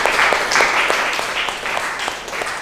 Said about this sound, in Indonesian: Kita kasih tepuk tangan semuanya.